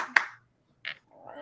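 A single sharp hand clap calling for food, close and brief, followed by a short pause and then quiet voices talking.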